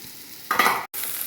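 Onions and green chillies sautéing in a pan give a short burst of crackling sizzle and stirring, close and fairly loud, that cuts off abruptly and then settles into a steady hiss, with no voices.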